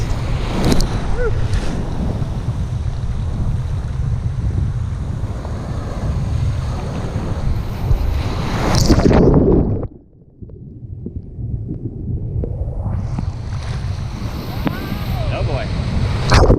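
Big waves crash and roar on a windy day at Sunset Beach, with heavy wind buffeting the microphone; the surf stays loud and continuous, with a brief near-silent dropout midway before the rushing water returns.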